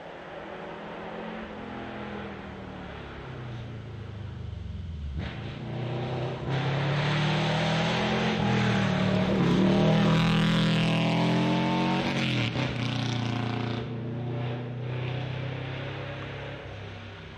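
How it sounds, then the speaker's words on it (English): A Subaru Impreza rally car engine roars past on a forest rally stage, rising from a steady drone to a loud, revving peak midway, then fading away with gear changes. "the Subaru Impreza. Yep, that sounds like a Subaru."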